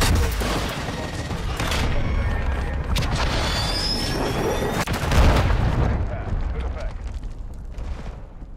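Close air support strike in Call of Duty: Modern Warfare III on the Favela map: continuous loud booming explosions and rumbling gunfire with jet-like whooshes, dense and close, with voices shouting over it.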